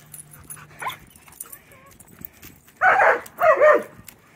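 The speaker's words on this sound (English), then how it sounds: "See, she barks at invisible things." A small dog lets out two loud, sharp barks in quick succession after some faint whimpers and quiet outdoor shuffling.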